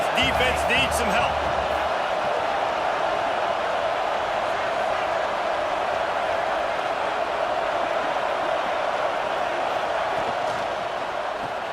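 A packed football stadium crowd in a Penn State versus LSU game swells into a sustained roar, loud and steady throughout, with a few sharp knocks near the start.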